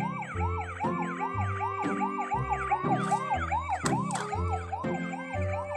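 A toy siren wails in a steady repeating up-down pattern, loud and close, with an electronic tone that keeps cycling without pause.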